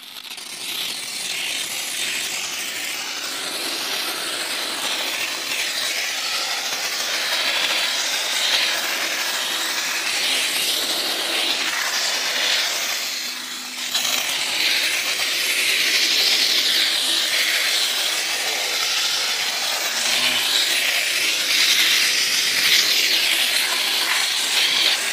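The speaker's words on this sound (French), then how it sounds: "Je vais envoyer le shampoing et de la vapeur." A Kombiplus steam vacuum cleaner sprays shampoo and steam in a steady, close, breathy hiss that runs continuously, with one short dip partway through before resuming, and no voices.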